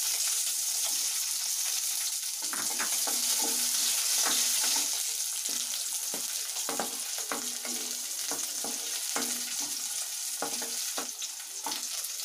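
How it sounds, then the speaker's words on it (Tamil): Curry leaves, garlic and shallots frying in oil in a pan, a steady, loud bright sizzle throughout with repeated scraping stirs of a spoon against the pan, close up and without talk. "கருவேப்பிலை, பூண்டு இதெல்லாம் நல்லா மிக்ஸ் பண்ணிக்கணும்"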